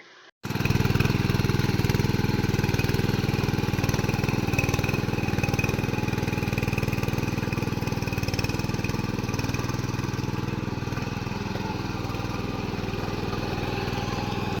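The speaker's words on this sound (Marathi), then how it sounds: "आपला जो दाता आहे तो खाली करून ट्रॅक्टर फिरवून घेणार आहोत." A loud, steady tractor engine starts up abruptly and keeps a constant droning rumble close by while working a muddy paddy field. No voices are heard.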